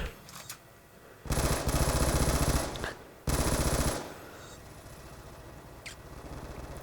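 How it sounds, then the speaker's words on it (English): Automatic gunfire in the video game Black Ops 2, two loud sustained bursts over a quiet background, with a few fainter shots around them. "those guns, they jump so much when you fire them"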